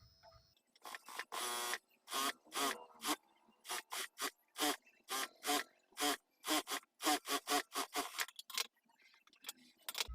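A sewing machine stitches piping onto a plain blouse in many short rapid bursts separated by brief pauses, close and fairly loud with no talk.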